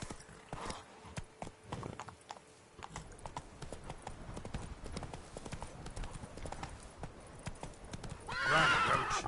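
Hooves clop in a quick galloping rhythm beneath game music and ambience as the horse Roach runs in The Witcher 3: Blood and Wine. A short neigh stands out near the end.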